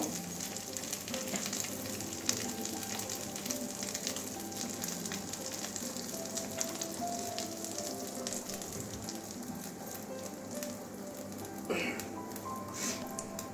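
Extra oil heats and sizzles in a pan with boiled taro for a Bengali kochur dum, giving a steady, soft hissing fry like light rain with faint stirring, continuous and unaccompanied by talk.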